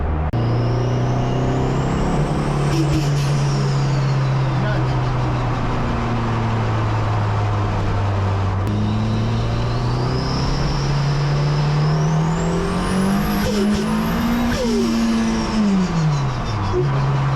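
A Toyota MR2 with a Formula 2 race engine, prepared for drag racing, holds a steady rumbling idle, then rises toward a 4,000 RPM fuel cut limiter with a faint whine over the top. The loud engine runs alone throughout.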